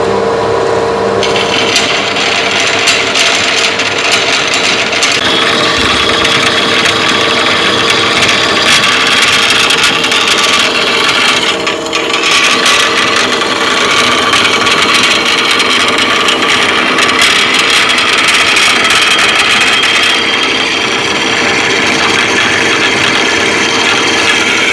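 Bandsaw cutting aluminum with its blade lubed with WD-40, a loud continuous rasping grind of the blade through the metal that holds steady the whole time, with no talking.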